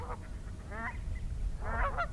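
Snow geese give a few honking calls, two clear bursts of nasal cries over a low rumbling background, fairly close.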